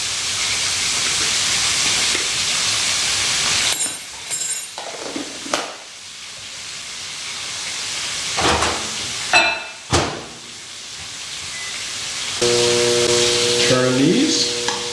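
Mongolian beef fries in a pan with a loud, constant hiss and sizzle, broken by stirring scrapes and clatters close by, and a tonal whine near the end.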